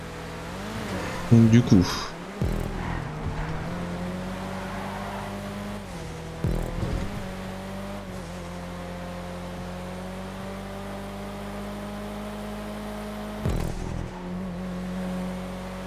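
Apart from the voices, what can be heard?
cars racing in the video game GTA Online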